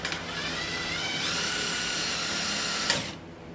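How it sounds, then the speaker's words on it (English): Power drill boring a hole while replacing trailer lights, a steady high whine for about three seconds that ends in a sharp crack as the bit breaks, then the noise cuts off. "you might just break the drill bit like that"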